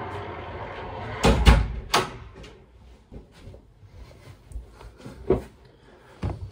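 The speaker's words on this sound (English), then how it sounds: "My door is about to get banged on" Heavy banging on a door: loud, hollow thumps in irregular bursts, a close cluster early, then scattered knocks later, with a quieter stretch between and no voices.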